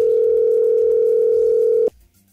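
A steady telephone dial tone holds loud and unbroken for almost two seconds, then cuts off abruptly as a radio studio places a call to a listener, leaving a faint hum behind.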